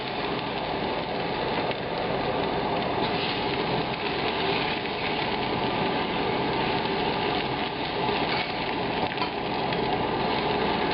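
Ginger and garlic sizzling in hot light peanut oil in a pan for a Chinese-style shrimp stir-fry, a dense, even hiss that carries on steadily and loudly throughout with no talk.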